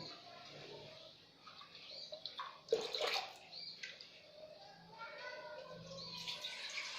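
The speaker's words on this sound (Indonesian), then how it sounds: "Kita tuangkan 2700 bagian air bersih." Clean water pours into a container to dilute chlorine for preparing a 0.5% solution, a close splashing gush that rises suddenly and then gurgles unevenly as it fills, quiet overall.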